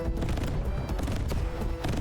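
Rapid, overlapping booms of cannon fire in the game Wanderberg, a dense barrage of blasts and impacts continuing throughout.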